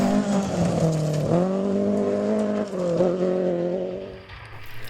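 Rally car powers along a forest stage with a loud, close engine note rising and falling through gear changes, then trails off as it moves away.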